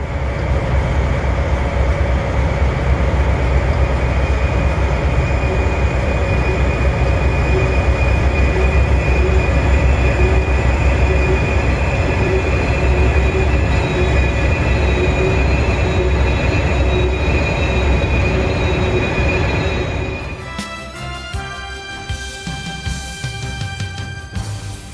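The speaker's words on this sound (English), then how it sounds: "After the train winds its way through the tunnels, it reaches Coleman Siding where it meets a westbound mixed freight." Train winding through tunnels on the Old Fort Loops, a loud, sustained rumble with steady high wheel squeal throughout that shifts to a sharper, broken screech near the end.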